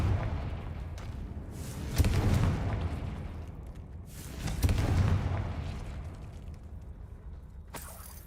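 Two booming spell blasts from the Confringo fire spell in Hogwarts Legacy, each a loud burst at about two and four and a half seconds, trailing into rumbling decay over a dim ambient bed, with no talk.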